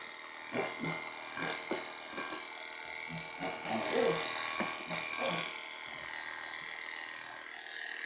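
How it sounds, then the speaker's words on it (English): Heiniger cordless Sapphire clippers run steadily while grooming a matted Shih Tzu, a continuous mid-loud motor buzz with brief clicks and bumps as the blade moves through the coat. "these are Heinegger cordless sapphire clippers, which are very powerful clippers"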